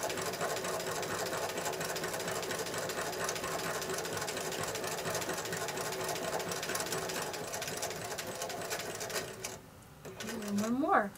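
A sewing machine runs a zigzag stitch across a quilt block for a basket quilt, a fast, steady mechanical whirring and clatter that stops near the end, followed by a brief rising whine.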